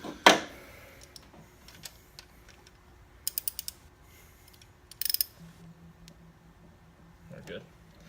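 A socket ratchet turns during a valve adjustment on a 1974 MGB, giving a few short clusters of quick clicks among quiet shop noise, with a louder knock at the start and faint speech nearby.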